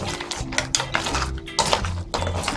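Frozen mussels stirred in a metal pot for a coconut-milk mussel dish, with a series of close clattering scrapes and clinks of shells and spoon against the pot in an irregular rhythm and a low hum underneath.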